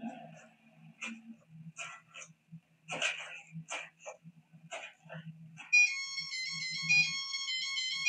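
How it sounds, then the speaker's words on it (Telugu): A phone ringtone plays a melodic electronic tune, loud and continuous, starting suddenly after scattered quiet sounds and footsteps. "ఏంటి రింగ్ టోన్ సార్"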